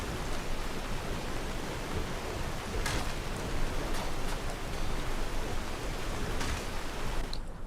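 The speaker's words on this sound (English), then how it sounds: "Still raining." Steady rain pours in a video game world, a dense even wash of falling water that carries on without a break, with a few louder spatters and no voices.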